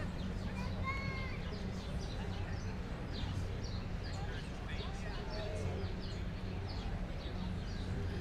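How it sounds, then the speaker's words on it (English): Birds chirp and tweet outdoors on a Greenwich Village street in New York City: scattered quick calls over a constant low city hum and faint murmuring voices. "You could hear the birds chirping."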